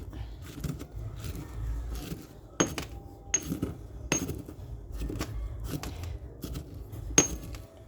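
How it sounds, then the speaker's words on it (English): Dried deer meat being pulverized in a mortar and pestle for pemmican: a run of sharp, irregular knocks and grinding clinks, close and moderately loud, with a few harder strikes spaced through the stretch. "One way is I used my mortar and pestle for some of it."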